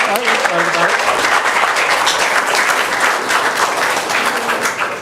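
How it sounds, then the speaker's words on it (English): Loud, close applause fills a school board business meeting as the audience claps for the first graduating class of the Lakeland School System, with a few voices talking under the sustained clapping. "let's have a round of applause"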